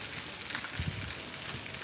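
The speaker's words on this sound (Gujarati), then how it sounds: "ભાઈ વરસાદ ચાલુ છે અત્યારે" Steady rain falls in a village in Khambhaliya taluka, Dwarka district, making a dense, even hiss with no speech over it.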